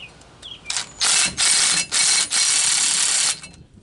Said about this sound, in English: Gonna just slightly run these U-bolts up just to keep us in the position we want to be in.